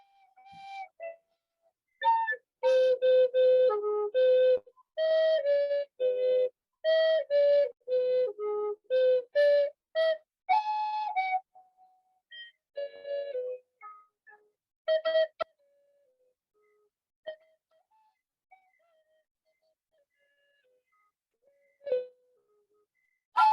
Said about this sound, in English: I'm going to put the energy of the eagle whistle into the vase and a little energy from this flute